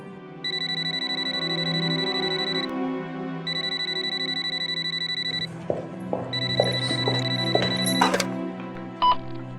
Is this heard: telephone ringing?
yes